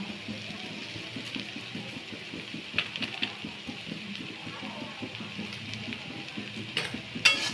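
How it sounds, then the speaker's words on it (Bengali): Shrimp pasta with pasta masala is stirred and fried in a pan, giving a faint steady sizzle with soft scraping and utensil clicks scattered throughout, louder near the end. "এবার আমরা খুব ভালো করে একটু নেড়ে নেব।"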